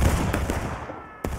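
Musket volleys crack out in a Civil War-era line battle in the video game War of Rights, a dense rolling barrage of shots with a sharp close report near the end, shouting voices mixed in.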